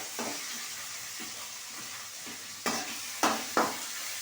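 Tomatoes and onions sauté in a pan for a crab masala, with a soft, steady sizzle broken by a few sharp scrapes and clinks of stirring.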